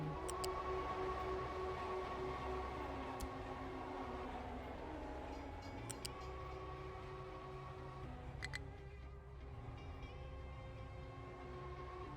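A train in the video game Captain of Industry rumbles steadily and continuously, with low mechanical drone and occasional brief sharp clicks, fairly close and without talk.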